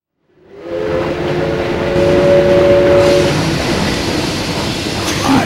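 Train stage intro in the Dreamcast fighting game Capcom Vs. SNK: Millennium Fight 2000, a loud rumbling rail roar that rises quickly from silence and holds steady, with a sustained whistle-like tone over the first half and a clank near the end.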